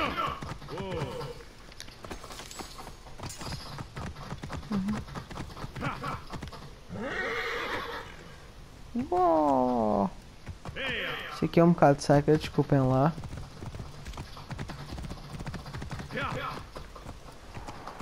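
Horse hooves clip-clopping and a horse whinnying in the Assassin's Creed video game, mixed with game sounds and heard under steady Portuguese talk.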